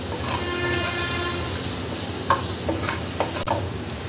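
Onions sautéing in sesame oil in a pan for fish curry, giving a steady close sizzle with occasional scraping stirs and clinks from a utensil, and no talking.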